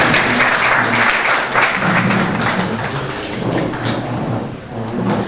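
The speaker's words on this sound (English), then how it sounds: "Ladies and gentlemen, a round of applause for our Deputy Minister" A crowd applauds the Deputy Minister at a Ghanaian event on biomedical waste management, a loud and sustained clatter of many hands clapping for several seconds.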